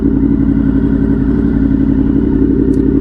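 A Honda VFR 800 motorcycle engine runs steadily and loudly at close range, its dense, even mid-pitched drone holding without pause or change in revs.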